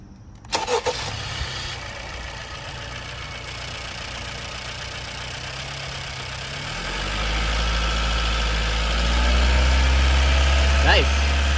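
A car engine cranks and catches, then settles into a steady low idle that rises slightly in pitch, with a voice speaking briefly early on, during an alternator and charging-system test.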